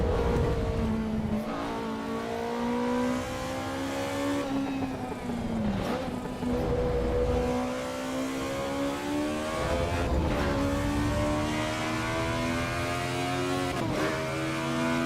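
Ferrari F40 engine in the racing game Assetto Corsa Evo, revving up and down with rising and falling tones, gear changes and a steady roar throughout.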